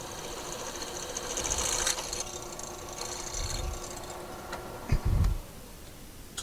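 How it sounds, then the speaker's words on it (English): A drill bores a hole through mild steel while a coupler is fitted to a Champion clay target launcher, giving a steady, whirring, buzzing grind that runs throughout with a few louder bursts near the end, close and without talk. "So we've got our hole drilled."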